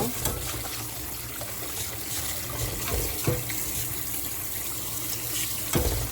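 Tap water runs steadily and splashes into a sink as boiled cockles are rinsed under it in a home kitchen, a continuous broad gush with a few heavier splashes and no talk.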